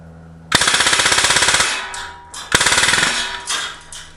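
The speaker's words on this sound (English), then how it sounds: "Okay, I'm going to do a mag dump" Umarex Legends MP 40 blowback CO2 BB machine gun emptying its magazine in a field: a loud, rapid burst of evenly spaced shots for about a second, a short pause, then a second rapid burst trailing off.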